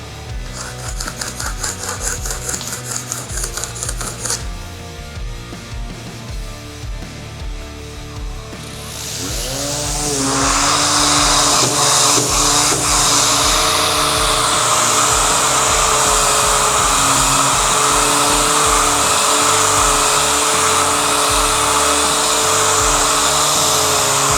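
A random orbital sander whirs, quieter and choppy at first, then spins up to a loud, steady high-pitched buzz that holds to the end.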